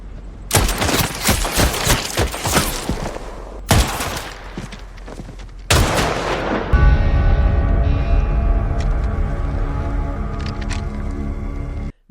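Rapid bursts of gunfire in a war film, dense crackling volleys in several loud stretches separated by short gaps, followed by a sustained rumbling, droning ambience.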